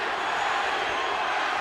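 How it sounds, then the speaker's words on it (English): Filipino fans chanting for Pacquiao in the final round of his boxing bout against Marco Antonio Barrera, a dense, steady arena roar filling the space at constant loudness, with no individual voices or distinct chant beats standing out. "Filipino crowd chanting for their man, hoping for a dramatic last-round knockout"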